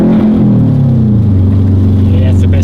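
A Subaru WRX with a swapped-in STI engine revs hard under acceleration on a slick road, its loud, close engine tone sliding steadily downward, with a voice heard inside the cabin.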